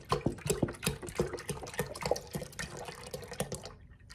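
Milk pours into an Instant Pot for cold-start yogurt, a close splashing and trickling liquid sound with small irregular drips, fairly quiet and alone.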